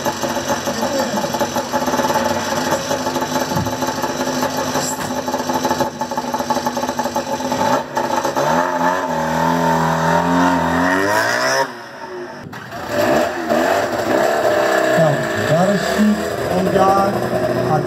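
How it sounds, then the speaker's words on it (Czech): A rally car engine revs loudly and repeatedly at a rally start, rising and falling in pitch with a brief dip midway, close and sustained. "Krásný zvuk tohoto auta."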